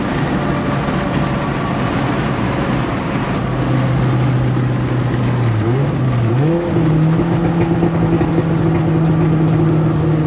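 A Mitsubishi Evo with a new aftermarket exhaust pulls hard through the gears, a loud, raspy engine note climbing steadily, dipping briefly at a shift, then rising again in third gear with a sharp, sustained roar.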